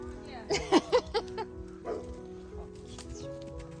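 A dog outdoors gives a quick series of short barks and yips, then a softer whimper, over background chatter from nearby people.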